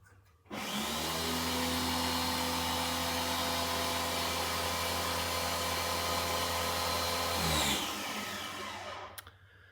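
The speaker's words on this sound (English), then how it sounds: "When we turn on the power washer, it will draw more amps," A Greenworks 1800 PSI electric power washer switches on with a sudden whine and runs at a steady, loud electric hum for about seven seconds before cutting off and spinning down.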